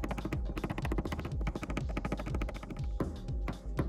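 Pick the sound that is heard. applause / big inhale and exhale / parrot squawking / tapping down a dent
tapping down a dent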